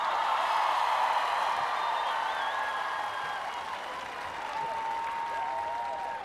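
A concert crowd at a show applauding a band member, sustained dense clapping with cheers and whistles rising over it, loud and continuous throughout.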